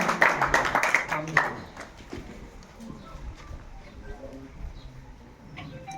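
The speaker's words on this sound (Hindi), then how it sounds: "जोरदार तालियों से उनको स्वागत करें" A crowd at a political gathering at a Hanuman temple claps loudly to welcome a guest, the applause dense for about a second and a half and then dying away to scattered claps and faint background noise.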